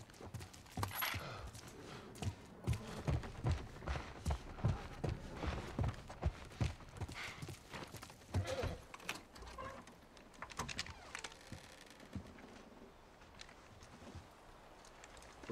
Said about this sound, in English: Let's get back to the horses.